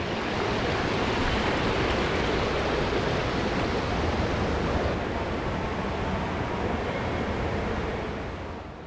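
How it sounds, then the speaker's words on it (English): A fountain splashes continuously inside the empty Gallery at Harborplace mall in Baltimore, making a broad, steady hiss of falling water that fills the space and tapers slightly at the end. "All you could hear was the sound of the fountain echoing throughout the entire place."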